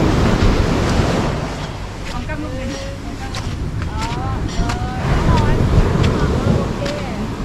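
Sea waves wash onto a beach on Koh Lipe, Thailand, as a continuous loud surf roar mixed with gusty wind buffeting the microphone, while people talk briefly over it.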